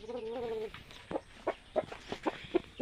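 A rooster kept as a breeder gives one full, close crow, followed by a series of short, evenly spaced clucks and calls with no talking.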